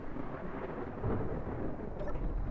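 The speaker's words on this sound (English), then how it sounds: "Ooh, lightning storm." Rumbling thunder from a lightning storm in a cargo-building video game, a broad low roll that swells slightly midway and carries on steadily under faint background noise.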